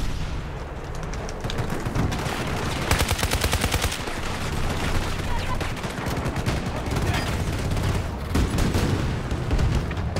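Battlefield-style shooter combat with SCAR rifle fire mixed into dense surrounding gunfire and distant booms, loud and continuous, with a voice briefly heard under the battle noise.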